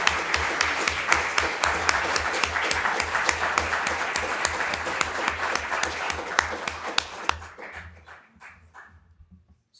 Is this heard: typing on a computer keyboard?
no